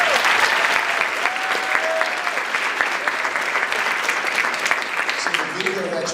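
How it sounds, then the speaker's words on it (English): A school assembly audience gives a sustained round of applause, dense clapping from a large crowd in a hall, with a faint voice briefly audible near the end. "Can we give a round of applause, guys?"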